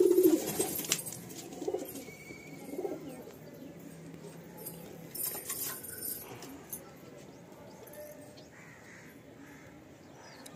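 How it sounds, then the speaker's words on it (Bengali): Madrasi pigeons in a full loft, cooing softly with a few caws and other bird calls over faint background noise, loudest at the start and fading to a quiet murmur. "খুব সুন্দর পায়রা।"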